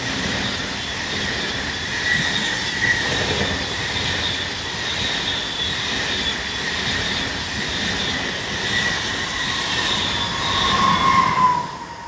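Locomotive 460.016 hauls a Zurich to Basel passenger service past, a sustained close rumble with squealing wheels and a steady rail hum throughout, swelling slightly toward the end.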